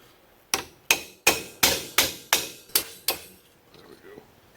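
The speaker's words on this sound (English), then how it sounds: "We're going to use a punch to drive this roll pin out." A punch is struck with a hammer to drive a roll pin out of a 1966 Ford Bronco steering column, giving eight sharp, evenly spaced metallic blows at close range with no talking.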